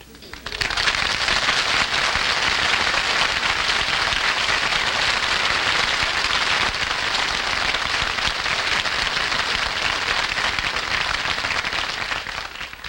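Studio audience applause on a radio comedy show greets the entrance of a vicious gunman, a sustained, dense wash of clapping that swells in quickly and holds steady and loud for over ten seconds before easing slightly at the end.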